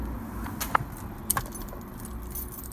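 Keys on a Mini Cooper fob jangle in a couple of short metallic bursts over a steady low hum, close by with no talking.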